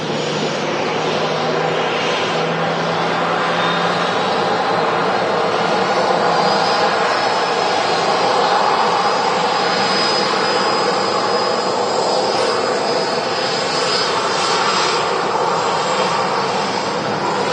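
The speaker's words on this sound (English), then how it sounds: "There's a Ryanair to Malaga now taking off on runway 23 right." A Ryanair airliner takes off from runway 23 right at Manchester Airport in the evening, its jet engines giving a loud, steady roar that stays strong and continuous throughout.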